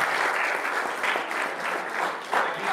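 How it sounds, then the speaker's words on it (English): Loud, sustained applause fills the hall from a literature festival audience after a talk session, with thick, continuous clapping throughout. "Please give them a big round of applause."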